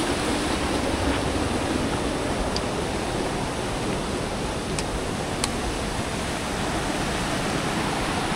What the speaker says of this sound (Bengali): এভাবে উপর দিয়ে জল নামছে আর এই জল নিচে যাচ্ছে